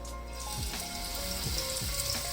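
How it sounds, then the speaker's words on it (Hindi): Marinated chicken sticks going into lightly heated oil in a pan: a soft, steady sizzle and fry with small popping crackles, faint and close, no speech. "ऑयल जो है हमारा हल्का सा गर्म हो गया है। अब इसके अंदर मैं ये स्टिक डाल दूँगी"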